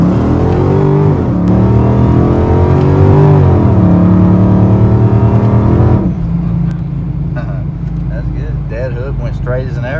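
A cammed 2013 Dodge Challenger R/T with a 2.9 Whipple supercharger roars through a hard pull, engine note climbing through gears with brief dips at shifts, then settling into a lower drone with faint voices.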